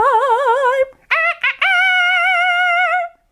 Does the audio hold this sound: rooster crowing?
yes